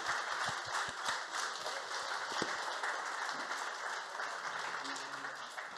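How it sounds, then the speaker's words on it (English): Audience applause for the speakers at the close of a tech fireside chat event, a steady dense wash of many hands clapping that carries on evenly for several seconds at moderate loudness with no talk over it. "Let's give our speakers a round of applause."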